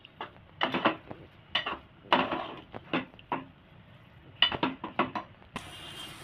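Paneer bhurji is stirred in a pan, giving irregular close scrapes and knocks of a spatula against the cookware, separated by quiet gaps, with a brief hiss near the end.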